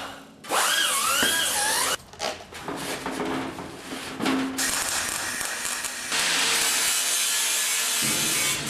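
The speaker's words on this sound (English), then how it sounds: "I'm gonna go ahead and file this back until it's straight with this" Hand file working a metal part of an Allis Chalmers 310 tractor back until straight against a template, with steady rasping strokes that come in long loud bursts and brief pauses, alone without talk.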